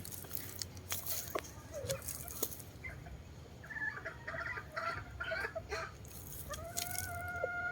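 A 10-to-11-month-old Sweater Boston cross hen and other chickens cluck and chatter nearby in a steady, busy stream, with a few brief higher calls and some background backyard farm noise.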